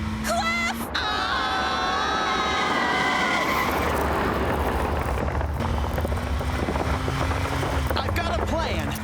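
A cartoon car races at speed on a town road during a monster chase, its engine roaring continuously while tires screech in long drawn-out skids, loud and close, with dramatic music underneath.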